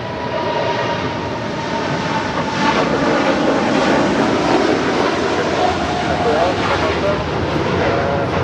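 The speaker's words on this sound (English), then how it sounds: "This is Lufthansa 457 Heavy departing to Frankfurt" A Lufthansa Boeing 747-8 Intercontinental heavy jet departs LAX for Frankfurt, its engines a loud, sustained broadband roar that swells slightly and rumbles steadily, close and dominant throughout.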